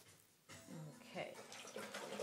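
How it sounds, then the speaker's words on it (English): A paintbrush is swished and rinsed in a container of water, giving soft, close splashing and trickling sounds, with a voice heard faintly alongside. "Now I clean my brush in the water,"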